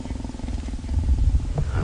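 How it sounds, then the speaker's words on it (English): A leopard growls low and rumbling, a deep continuous snarl that swells slightly toward the end, close by and with no speech. "And even Hosana is now growling as well."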